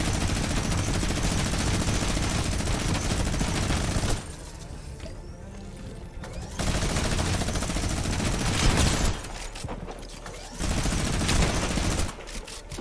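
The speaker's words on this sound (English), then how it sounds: "Using their freaking minigun, bro. That minigun was shredding me." Minigun fire in the Fortnite video game rips in long, dense sustained bursts broken by short pauses, loud and close throughout.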